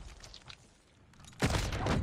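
A pistol shot in the mobile shooter game COD Mobile: faint muffled pops, then a loud close burst of gunfire that rings on to the end.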